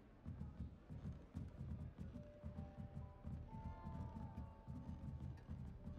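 Hooves of a centaur in the video game Hogwarts Legacy clop in a fast rhythmic gallop, steady and fairly close, with faint whinny-like tones and game ambience over them.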